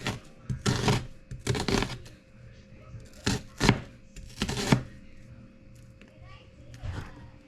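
An onion being chopped with a knife in a home kitchen: repeated bursts of cutting strokes against a board, close and fairly loud, separated by short pauses.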